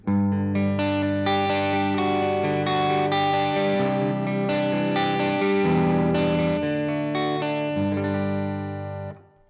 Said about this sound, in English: reverb and delay after an amp is more tucked away